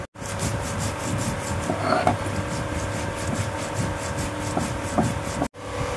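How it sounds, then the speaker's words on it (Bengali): Whole cumin seeds are ground on a flat grinding stone, producing a steady rhythmic rubbing and scraping that continues close up for several seconds without speech. "গোটা জিরেটা বেটে নিই, বাটা মশলা দিয়ে রান্নাটা করবো।"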